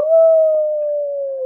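A person's voice imitates a wolf howling in one long, loud, sustained wavering tone that holds steady for over a second, with no other talk around it.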